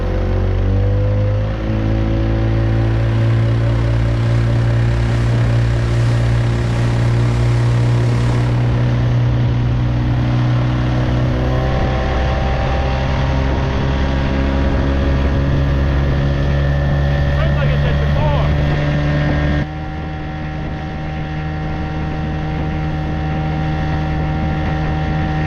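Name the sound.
boat engine running at full throttle against the current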